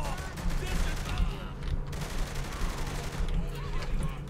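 Video game gunfire in Saints Row: The Third, a dense unbroken fusillade of rapid automatic shots, loud and steady throughout, with no speech over it.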